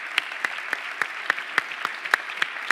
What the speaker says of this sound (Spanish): muchísimas gracias Paco, Gabriel, Paco, un aplauso para ellos.